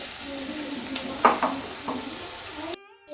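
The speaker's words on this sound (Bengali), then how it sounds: "এবার ভালো করতে হবে, ভেজে নেব।" Vegetables and rice frying in a pan over a raised gas flame give a steady close sizzle with a few brief louder stirring scrapes, cutting off abruptly near the end.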